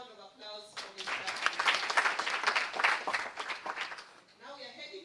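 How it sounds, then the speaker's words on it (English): Audience round of applause at an International Women's Day celebration, swelling from quiet talk into a full burst of many hands clapping, then tapering back as a voice resumes. "Another round of applause for Mr."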